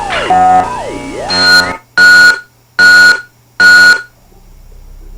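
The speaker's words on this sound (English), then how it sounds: "It's just beeps of different pitches." Loud electronic tones from the game The Crystal Key: a warbling, sliding pitch followed by three evenly spaced, sustained beeps with short silences between them, harsh and synthetic.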